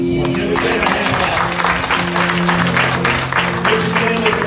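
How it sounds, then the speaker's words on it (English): Church congregation applauding during a Sunday morning service, steady dense clapping from many hands filling the room with a low organ or keyboard tone sustained underneath. "Somebody give him some praise this morning. Give him a hand"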